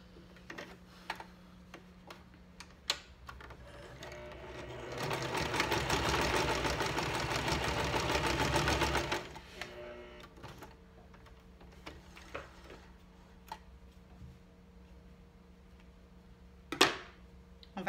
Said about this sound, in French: La ligne qu'on a tracée, on va venir coudre sur cette ligne de cette façon.